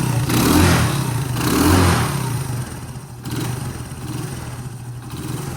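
A small Honda three-wheeler engine revs up twice in quick swells of throttle near by, then drops back to a rough, uneven idle.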